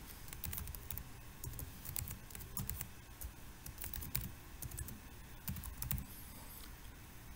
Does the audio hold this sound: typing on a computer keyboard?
yes